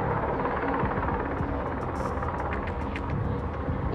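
A helicopter hovers in the video game Quantum Break, a steady, loud, broadband rotor and engine roar that fills the scene without letting up.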